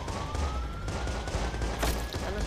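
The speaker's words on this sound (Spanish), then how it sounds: "Ah, no, están agarrando balazos." Gunfire in the video game Watch Dogs 2 comes as dense, overlapping shots under a faint siren-like tone, with a loud burst near the end.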